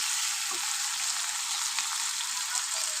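Spices, ginger and tomato fry for mutton curry in a pan, giving a steady, close sizzle that holds evenly through the whole stretch with no talking.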